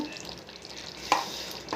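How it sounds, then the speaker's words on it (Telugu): Brinjals fry in oil with tempering seeds, a soft steady sizzle with stirring scrapes and a sharper crackle burst midway, close and moderately quiet. "వంకాయలు నూనెలో వేపి పోపు గింజలు వేసి కరివేపాకు వేసి"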